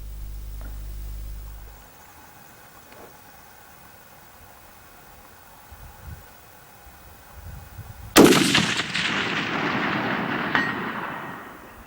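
A Howa HLR rifle in 6.5 Creedmoor fires one loud, sharp shot on a long-range course after several quiet seconds of faint ambient hum, followed by a rolling, fading echo.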